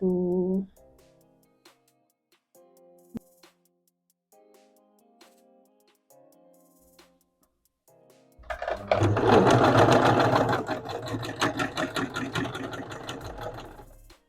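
A sewing machine stitching thick dress fabric starts with a few short hesitant bursts, then runs loud and fast in a steady, heavy chatter for several seconds.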